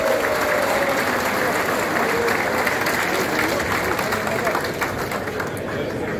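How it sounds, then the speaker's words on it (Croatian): Audience applause at a commemorative gathering marking the 29th anniversary of a military unit, dense, even clapping from a crowd, sustained and fairly close throughout. "Ajmo jedan aplauz za naše patrijarhe."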